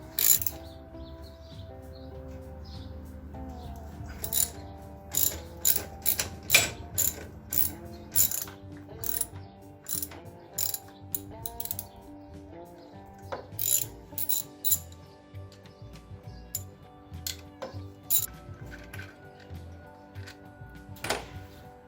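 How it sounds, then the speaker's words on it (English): An 8mm hex wrench ratchets on a 2007 Victory Vegas motorcycle during stator replacement, giving bursts of sharp metallic clicks in quick runs separated by pauses, close and fairly loud, with no talking. "8mm hex wrench to get into these."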